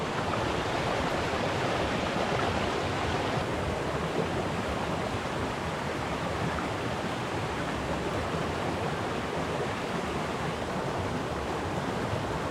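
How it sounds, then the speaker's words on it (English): A small stream flowing beside a Scottish loch, a steady, loud, broadband rush of running water that stays constant and close for the full twelve seconds, with no voices. "this stream is far too loud if I want to get any sleep"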